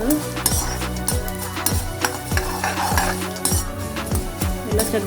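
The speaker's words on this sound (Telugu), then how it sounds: "ఇలా చక్కగా పోపు వేయించుకోవాలన్నమాట." Tempering spices with asafoetida sizzle in hot oil for a karonda pickle, a steady frying hiss punctuated by regular scraping stirs and faint clinks of a utensil against the pan.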